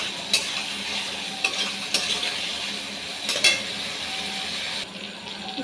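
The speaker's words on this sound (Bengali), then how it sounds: "সবজি দিয়ে আমি একটু নেড়ে নিয়েছি" Vegetables are stirred into spiced masala in a pan while cooking veg, egg and soya biryani, giving a steady low sizzle with a few sharp scraping clicks of the spoon against the pot.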